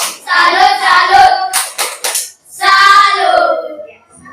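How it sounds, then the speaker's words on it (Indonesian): A classroom group at a university teaching practicum performs a rhythmic salute clap in two loud bursts, with voices chanting along in time and a brief pause between. "Kita berikan tepuk salut untuk kelompok Bilik Kanan."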